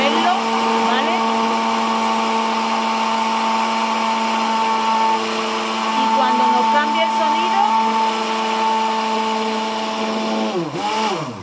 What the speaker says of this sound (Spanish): Con esta batidora lo vamos a hacer.